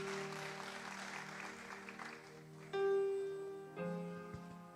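A church congregation applauding together during a worship service, a steady wash of clapping beneath sustained music chords that swell louder partway through.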